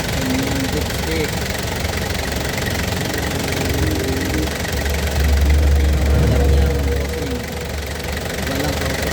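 Toyota Commuter 2001 van with its diesel engine running, a steady low knocking idle with a brief rise in rumble midway, while someone talks nearby over it.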